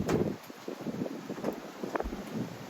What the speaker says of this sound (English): on a windy day